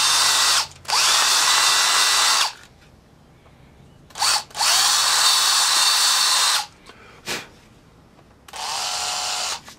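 A power drill bores a hole straight through the center of a baseball in three loud, steady whirring bursts separated by short pauses, the last burst lower in pitch.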